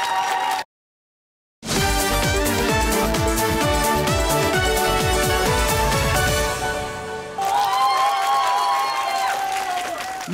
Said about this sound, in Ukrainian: Ваші оплески фіналісткам.